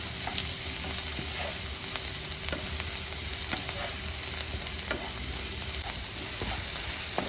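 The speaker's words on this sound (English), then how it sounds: "Now you can see the onion has nicely been fried." Chopped onions frying in oil with salt while being stirred in a pan for egg masala, a steady close sizzle with scattered light scrapes and taps of the spoon throughout.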